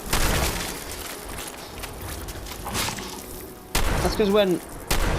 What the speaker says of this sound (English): Somehow I'm hitting them with a shotgun.